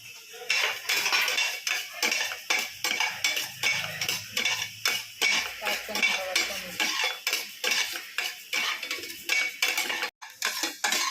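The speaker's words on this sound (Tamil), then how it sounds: "இப்போ அரிசியை பொரிய அரிசியாக வறுத்துக்குவோம்" Raw rice dry-roasted in a pan, stirred with a spoon that scrapes and rattles the grains in a steady rapid rhythm, roughly twice a second, close up and loud with no voices, ending with a sharp clank.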